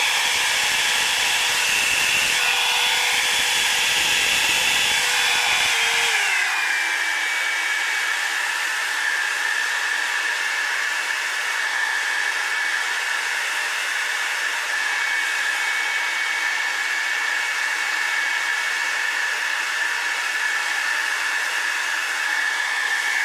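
A hair dryer blows steadily on wet black paint over a flower painting, a loud continuous whir and hiss that shifts pitch after a few seconds and then holds, alone without speech.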